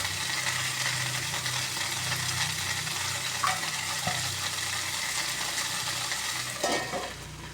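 Moringa flowers cooking in a pan over a flame for a thoran, a steady soft sizzle and frying hiss with occasional faint clinks of a utensil stirring, close and continuous without talk.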